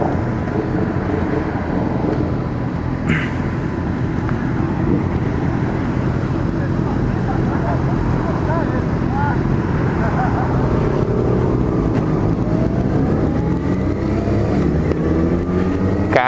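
A large group of more than fifteen motorcycles, including a Yamaha XJ6 F, riding together. Their steady engine drone and road rumble continue for the whole stretch, mixed with heavy wind noise.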